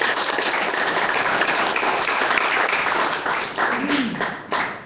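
Audience at a Korean company event applauding the chairman: a loud, sustained wave of many people clapping that thins into scattered claps near the end, with a brief voice underneath.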